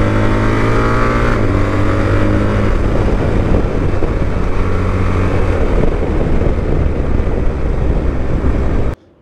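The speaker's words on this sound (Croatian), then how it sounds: "Prvi put vozim BMW automatik." A 2025 BMW R1300GS Adventure with the ASA automatic gearbox, ridden on the road: a loud, close engine drone that shifts pitch early on as it changes gear, then holds a rough steady roar before cutting off abruptly.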